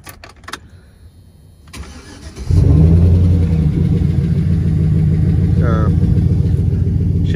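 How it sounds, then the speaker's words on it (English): A GMC Sierra pickup truck engine cranks and starts up close and loud, settling into a deep rumbling idle with a brief rev, after some light handling noises. "I guess I'm just revving it"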